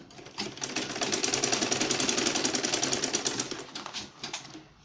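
A sewing machine runs steadily, stitching the zip onto a handmade fabric purse, a fast even whir that starts up, holds for several seconds, then slows to a stop.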